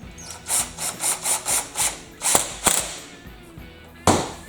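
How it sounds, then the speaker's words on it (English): A Torx 27 screw being driven into a Stihl curved-shaft trimmer head, heard as a quick series of about eight short whirring bursts from a close driver, followed by a few sharp clicks and knocks. "And put the screw in. Number 27 Torx."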